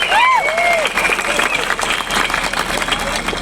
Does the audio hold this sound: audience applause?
yes